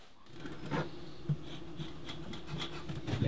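Bees inside an observation hive that is being put back together give off a steady, close, low buzzing hum, with faint scraping and rubbing noises scattered through it.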